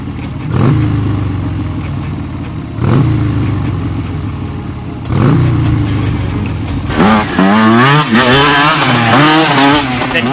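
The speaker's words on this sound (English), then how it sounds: "He then heard a motor start up." An engine cranks over twice with short rough bursts, then catches on the third try and settles into a loud, close, steady rumble with wavering revs. The source is a big motorcycle, heard alone with no talk.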